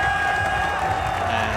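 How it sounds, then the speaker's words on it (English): Spectators cheering and applauding the winning driver on the podium after a DTM touring car race at the Hungaroring, a steady wash of crowd noise with a commentator talking over it. "with a big cheer for him"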